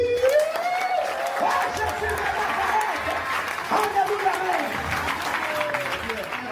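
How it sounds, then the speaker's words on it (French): Applause from a church or television audience, a steady wash of clapping with crowd noise that continues for several seconds under a voice speaking. "Acclamez."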